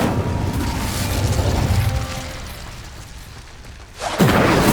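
Incendio fire spell cast in Hogwarts Legacy: a sustained rushing burst of flame that fades, then a sharp whooshing flare at the end, loud and close with no talking.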